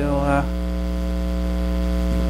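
A CNC router in a home woodworking shop is switched on and settles into a steady electrical hum with strong tonal harmonics, running alone and unchanging after a brief louder surge at the start.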